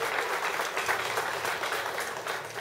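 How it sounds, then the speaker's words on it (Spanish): Crowd at a live folk music peña applauding a guest performer, a dense, sustained wash of clapping, loud and fairly close throughout. "fuerte el aplauso para él"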